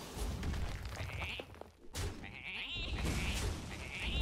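Sheep bleating in the card game Hearthstone, a few short wavering bleats over busy game effects and low thumps, fairly loud in the mix.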